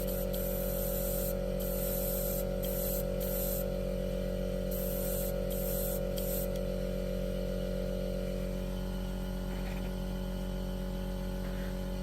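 Hairspray hisses out of a small can in a long, steady spray that runs unbroken for about twelve seconds, close and fairly quiet, with a faint hum under it and no talking.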